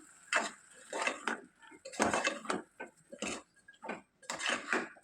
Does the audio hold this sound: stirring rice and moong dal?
yes